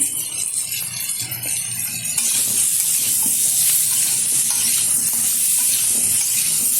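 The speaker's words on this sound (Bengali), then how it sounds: "দু থেকে 3 মিনিট মতো আমি নেড়ে চেড়ে নিচ্ছি তেলের সাথে" Potato, pumpkin and drumstick pieces are stirred in hot oil, giving a steady hissing sizzle that swells louder after the first couple of seconds and carries on without a break.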